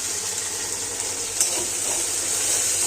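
Turmeric and spices frying in a pan at home, a steady broadband sizzle holding evenly throughout with a brief sharper crackle partway, no voices over it.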